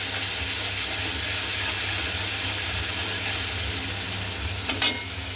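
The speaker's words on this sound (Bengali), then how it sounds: "একটু নাড়িয়ে" Spice paste frying for a pabda fish curry in a pan gives a dense, steady sizzling hiss, then a short burst of scraping stirs near the end.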